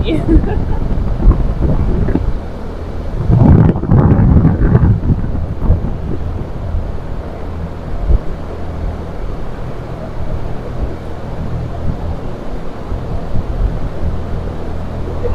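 Strong outdoor wind buffets the microphone in loud, uneven gusts, with a heavier rumbling burst near the start; a person speaks briefly over the rushing noise.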